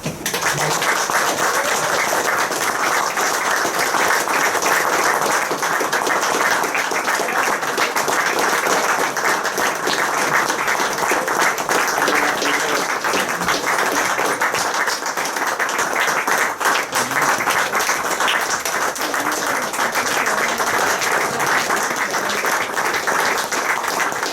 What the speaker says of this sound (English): I want to start off with a minute's applause for Francis Lee.